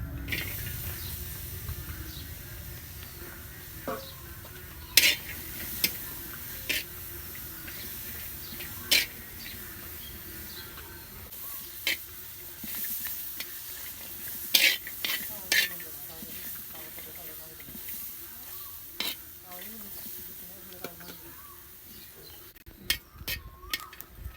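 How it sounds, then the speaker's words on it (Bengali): Steady frying crackle of green chilies and garlic in a pan with sporadic sharp clicks and scrapes from stirring; moderate level, no talking. "এখন আমি কাঁচা মরিচ আর রসুন এখন ভাইজে নিব"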